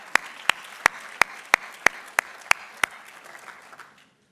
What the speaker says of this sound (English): Let's just clap for hygiene.